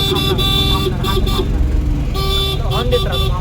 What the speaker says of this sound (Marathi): हॉर्न देत राहतो.